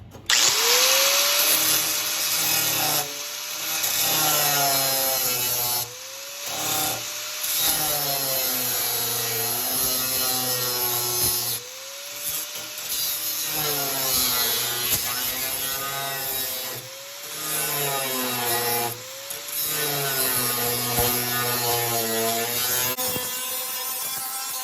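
A power tool cuts through rusty rocker panel metal on a 1969 Plymouth Road Runner under restoration, a loud, close grinding whine that repeatedly rises and falls in pitch through short cutting passes, with no talking.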